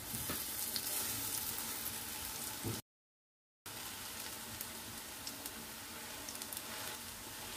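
Fritters frying in oil in a nonstick pan, a dense continuous hiss and crackle of sizzling close by, broken by a short silent gap, with no talk.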